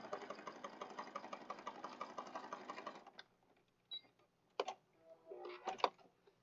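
Sewing machine stitching down a pocket on a junk journal page, a steady close whir of rapid stitches for about three seconds, followed by quiet with scattered handling clicks and taps.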